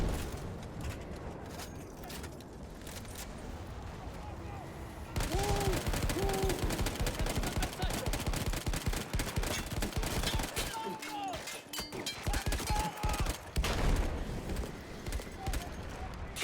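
Gunfire in Battlefield 1 crackles in dense bursts of rifle and machine-gun shots amid battlefield noise, with a sudden loud onset partway through and sustained rattling, while shouts and other sounds sit underneath.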